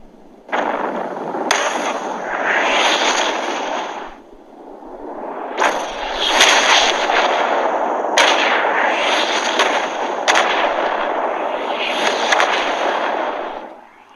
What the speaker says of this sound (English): the tanker truck caught fire, and then a huge explosion occurred, causing a chain reaction